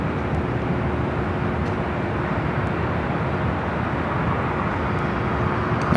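A Philippine Airlines airliner taxis across runway 24 left at LAX toward the west gates, a steady, broad engine rumble and roar holding evenly throughout at moderate distance.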